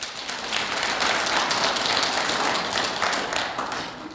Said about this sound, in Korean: 우리 그 하나님 앞에 정말 감사해서 영광의 박수 한번 올려드립시다